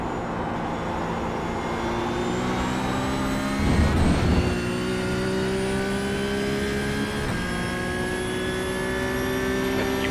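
Porsche 992 GT3 Cup race car lapping the Hockenheim National circuit in iRacing, its engine note droning steadily at high revs with gear changes and pitch shifts, loud and close throughout with no talking.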